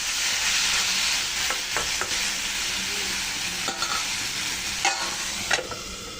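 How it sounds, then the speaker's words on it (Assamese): Potato and tomato fry in a pan with a steady, loud sizzle, and a few sharp scrapes and clinks of a utensil stir through them now and then. No one speaks. "এইফালে ধুনীয়াকৈ আলু এটা দি দিছোঁ বিলাহী দি অকণমান ভাজি আছোঁ"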